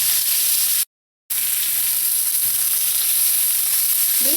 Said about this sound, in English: And we're going to grill the zucchini.